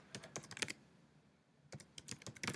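Computer keyboard typing while renaming a document: two quick bursts of keystrokes, a cluster near the start and another after a short pause, close and fairly quiet with no talking.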